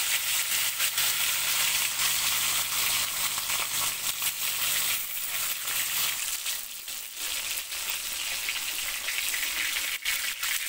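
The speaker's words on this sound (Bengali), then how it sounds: "এরপর তেলটা একটু গরম হলে কড়াইতে মাছগুলো দিয়ে দেব।" Tilapia pieces fry in hot soybean oil in a wok with a loud, dense sizzle close by, a continuous hissing crackle that wavers slightly throughout with no voices.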